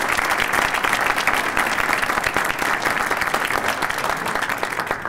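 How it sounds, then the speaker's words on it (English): A steady roar of crowd applause in a hall at a Buffalo State student union reopening ceremony, dense clapping from many people holding at an even level throughout. "Let's give Dr. Podolewski a round of applause in his absence."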